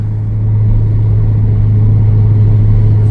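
A Corvette with yellow brake calipers and aftermarket wheels rumbles steadily nearby, its engine held at a constant, loud idle or light rev for a few seconds, with no talk over it.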